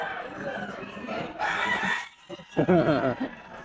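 Chickens at a pet market, white claret yellow-legged roosters, give a rooster crow and clucks amid crowd chatter, with a loud burst of calls near the end.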